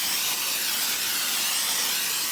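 Cooking spray hisses steadily onto chicken pieces for Cuban pollo asado on a grill, a continuous close, even spray with no pauses and no talking.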